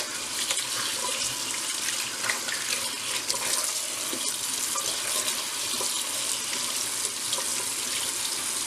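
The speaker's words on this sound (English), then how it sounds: "lay my fillets in here, and I'm just going to wash them off" A kitchen tap runs steadily as striped bass fillets are rinsed in a sink to wash off scales, producing an unbroken hiss and splatter of water that lasts the whole time.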